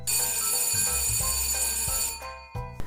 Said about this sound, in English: Then, the sound of the doorbell ringing ran throughout the house.